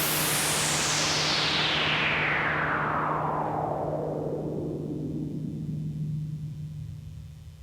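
A Roland Boutique SE-02 synthesizer plays steady white noise through a filter that sweeps downward, taking the hiss from bright to dark over several seconds and leaving a low, fading rush with a faint hum underneath.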